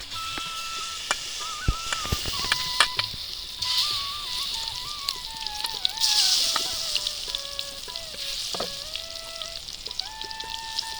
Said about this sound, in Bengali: তেল আমার গরম হয়ে গেছে, আমি এবার এই বেগুনিগুলো ভেজে নিব।